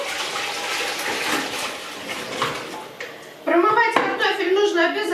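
Water drains from rinsed potatoes through a colander in a kitchen, a continuous splashing rush that swells louder partway through, with a voice briefly audible near the end.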